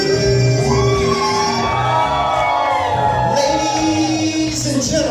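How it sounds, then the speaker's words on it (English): A live awards-show audience in Chicago erupts in sustained screaming, whooping and shouting, a dense continuous roar of crowd voices with music underneath throughout. "Now somebody, anybody, everybody scream"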